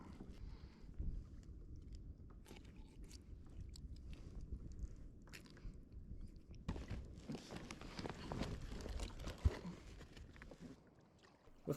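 A kayak is paddled back toward shore on open water, with soft, irregular paddle splashes and lapping, a few light knocks against the hull and faint wind, all fairly quiet and without speech.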